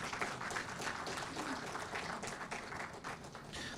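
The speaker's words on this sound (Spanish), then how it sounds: "También recibimos con fuertes aplausos al señor Javier Lozano Marreros" Audience applause at a meeting of public university leaders, a dense, steady wash of clapping from a moderately sized crowd that holds at an even level for several seconds without speech over it.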